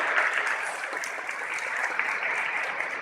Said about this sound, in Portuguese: Uma salva de palmas a todos nós.